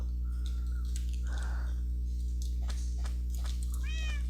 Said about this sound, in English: There's our cat.